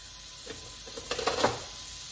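Butter sizzling in a cast iron pan over medium heat, a soft constant hiss with a few brief louder crackles midway, close and without talk.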